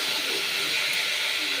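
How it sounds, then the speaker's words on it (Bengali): Pumpkin frying in hot oil with black cumin seeds, a steady broad sizzling hiss that holds close and even throughout, with no voices. "কালো জিরা ফোড়ন দিয়ে কুমড়োটাকে ভাজা করছি"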